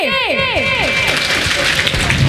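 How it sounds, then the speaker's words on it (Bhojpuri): An audience claps at a Chhath Puja festival gathering, a broad wash of applause running under an amplified voice and growing busier toward the end. "अपने लेल बजा ले एक बेर ताली"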